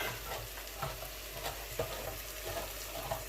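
Beef frying and being stirred with rendang paste in a pan, the paste beginning to catch on the bottom; a steady close sizzle with small scraping stir accents and no talk.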